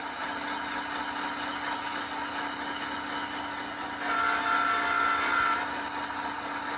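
A B39-8 diesel locomotive in a train video game runs with a steady engine drone and a faint tonal hum, swelling a little louder midway, with no talk.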